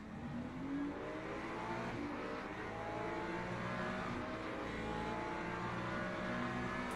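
Race car engine in Le Mans Ultimate at a Le Mans LMGT3 race, a continuous loud whine with rising and shifting pitch as the car accelerates, other cars audible alongside, no talking.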